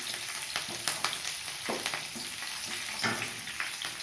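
Peanuts and slit green chillies frying in hot oil over low heat, a steady crackling sizzle with occasional sharper pops and stirring scrapes, close and continuous with no talk.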